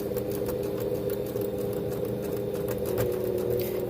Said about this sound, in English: I'm going to top stitch the top and the bottom, and I'm going to do it just very close to the edge